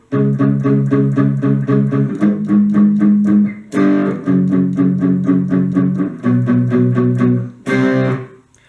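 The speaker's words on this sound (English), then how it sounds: "that's the whole verse played by the rhythm guitar" Distorted electric guitar chugging through the rhythm-guitar verse riff of a song, loud and close, with chord changes every couple of seconds and no voices.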